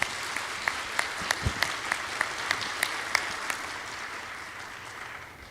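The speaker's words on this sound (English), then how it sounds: "Give them a big round of applause for the first group" A large conference audience at a plenary session applauds a group of presenters, a continuous bed of clapping with a few sharper nearby claps popping out at regular intervals, gradually thinning and fading toward the close.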